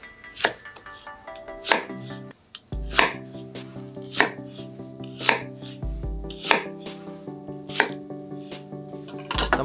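An onion being cut into wedges about 1 to 1.5 cm thick, a knife striking the cutting board in steady, evenly spaced chops, close and clear over soft background music.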